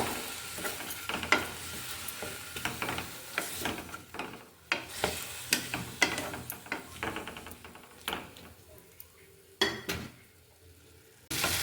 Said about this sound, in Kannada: ಟೊಮೆಟೊ ಕೂಡ ಈ ಒಗ್ಗರಣೆ ಒಳಗಡೆ ಮೆತ್ತಗಾಗಬೇಕು